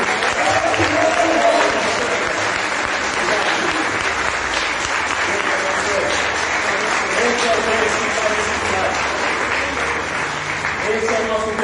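A church congregation breaks into loud, sustained applause, a dense wash of clapping that stays steady throughout, with some voices faintly mixed in beneath.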